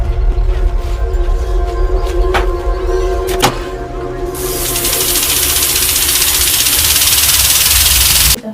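Water pump motor running in a home, a steady loud mechanical hum with a faint knocking pulse, later joined by a broad rushing hiss like flowing water that continues to the end.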